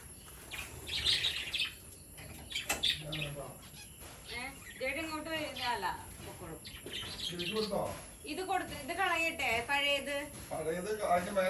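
Caged pet birds chirp and tweet in quick, scattered bursts while being fed, fairly faint and close, mixed under a person talking throughout.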